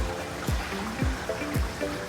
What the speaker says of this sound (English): while that's filling